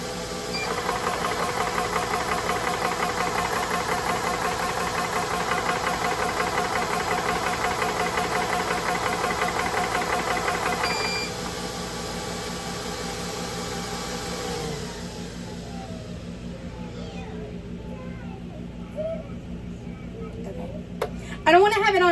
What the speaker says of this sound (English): I'm going to hit the compressor.